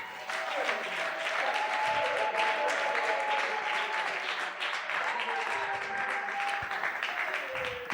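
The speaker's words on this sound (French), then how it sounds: "Est-ce qu'on peut acclamer le Seigneur?" A church congregation at a Sunday worship and thanksgiving service applauds to acclaim the Lord. Steady, loud clapping from many people runs throughout, over sustained keyboard tones.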